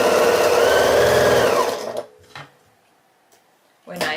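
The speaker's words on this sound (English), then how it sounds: "I'll sew the sashing rows to these rows that I'm stitching right now" Sewing machine stitching quilt sashing rows for a mini quilt, a loud, close, steady mechanical whir that runs for about two seconds and then stops, followed by a few quiet clicks and a short burst of speech.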